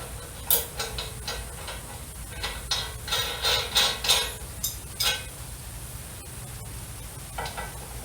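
A castle nut threaded onto a bolt and tightened with a ratcheting wrench while assembling a 14 HP commercial wood chipper, with quick irregular metallic clicks and ticks close up over a low steady background hum, no talk.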